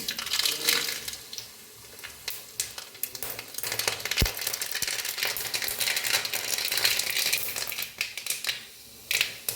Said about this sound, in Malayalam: ഇനി കടുക് പൊട്ടിക്കാം